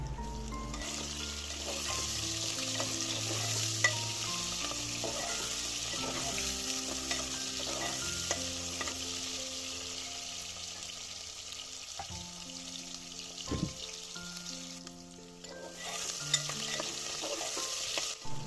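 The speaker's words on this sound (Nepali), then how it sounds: "आलु राखिसकेपछि यसलाई चलाउनु पर्छ। मैले प्याजलाई पनि राखिदिएँ।" Potatoes and onions sizzle steadily in a pan for kwati soup while a spoon stirs them, with scraping and occasional clinks over a constant frying hiss, close and fairly loud throughout.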